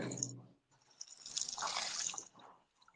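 Water poured over a person's neck during a healing ritual, splashing and dripping in bursts with a brief pause partway through, fairly close.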